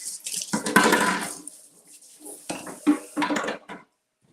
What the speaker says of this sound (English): Mom says clean as you go, so I'm just going to rinse these off